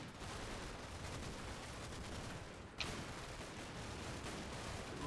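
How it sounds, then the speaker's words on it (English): Automatic gunfire in the video game Combat Mission: Battle for Normandy, a dense, continuous crackle of distant rifle and machine-gun fire with a slight jolt midway, with no talk. "So we are getting a bit of automatic fire coming in"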